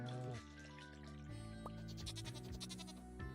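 A goat bleating in the farming game Stardew Valley, one short bleat over steady game music, fairly faint.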